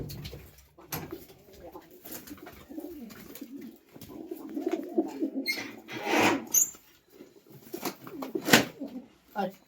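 Pigeons coo in a rural setting while a bird is being caught, with soft repeated calls heard under people talking nearby and rustling movement throughout.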